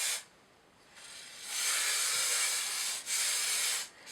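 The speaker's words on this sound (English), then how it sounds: "It's a spray can with a nozzle on top, so we're going to just apply a nice even coat to both of these." A spray can with a nozzle sprays paint in hissing bursts: a short burst, a pause, then a long steady spray with a brief break and another spray, close and fairly quiet.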